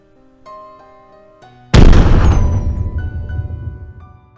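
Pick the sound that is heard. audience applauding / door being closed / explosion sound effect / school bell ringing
explosion sound effect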